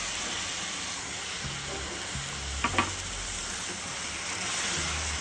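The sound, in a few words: garlic and tomato paste sizzling while sautéing in a pan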